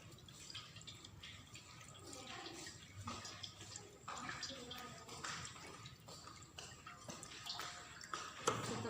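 Running tap water rinses hands at a sink, a soft continuous splashing stream with light uneven spatters, quiet and close, with faint bursts of noise near the end.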